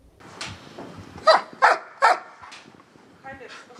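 A fluffy shelter dog with a thick undercoat in Odesa gives three sharp barks in quick succession, close and loud, among softer yips, whimpers and voices in the background.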